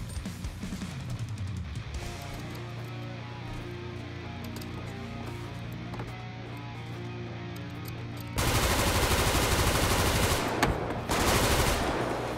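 Gunfire in the GTA RP video game: a tonal game soundscape gives way midway to a dense, loud burst of rapid automatic shots that sounds close, continuing for several seconds with a short break.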